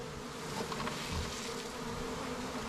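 Dense, continuous buzzing of a honeybee swarm outdoors along a country road, a steady droning hum from many bees at close range with no voices.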